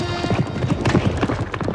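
Horses trotting in a 1977 French race film, hooves clip-clopping in a steady, busy rhythm at close range, with a faint whinny and no talk.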